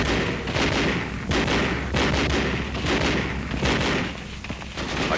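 Tanks and supporting weapons pour heavy gunfire onto a machine gun nest in a 1944 wartime battle, a dense, continuous roar of booms and rapid shots with no pauses.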